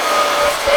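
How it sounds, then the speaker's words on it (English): A blow dryer heats resin while an action figure is being customized, giving a steady, close airy rush with a faint whine throughout the brief moment. "Plus, I hit it with the blow dryer."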